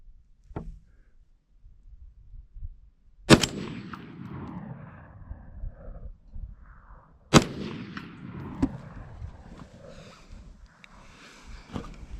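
An LR308 AR-10 rifle with an 8.5 oz heavy buffer fires surplus ammunition on gas setting 10. Two sharp, loud shots ring out seconds apart, each trailing into a short echoing decay, with a faint click early on and scattered handling noise.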